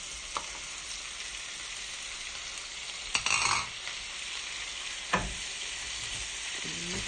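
Lamb and honeycomb beef tripe sautéing in a pan with almonds, Ragusan style, makes a steady, even sizzle throughout, broken by a couple of sharp clunks from the pan or spoon.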